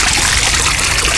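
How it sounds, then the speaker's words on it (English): Water flows from a trough atop a rough rock birdbath fountain, a loud, steady, close trickle and splash that continues without a break. "you can see that little trough right there at the top of that rock where the water's flowing out"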